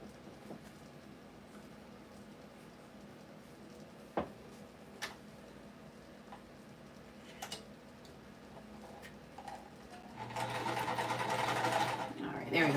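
A Phoenix PMQ sewing machine starts running near the end, a steady close mechanical whir after quiet scattered ticks and taps.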